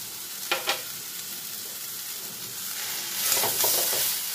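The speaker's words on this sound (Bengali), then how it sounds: "আদা কাঁচা লঙ্কা বাটাটা দিয়েও থোড় আর পেঁপের সঙ্গে কিছুক্ষণ নাড়াচাড়া করে নেব।" Banana stem and papaya stir-fry with ginger-green chilli paste in a pan, a faint sizzle with a couple of quick spatula scrapes early and a brief louder burst of sizzling and stirring near the end, no talking.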